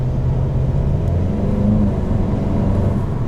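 A 2020 Volkswagen Golf GTI S with DSG idles in sport mode at a raised idle, producing a loud, steady, close-up low engine hum with a faint whirring tone and no other sounds.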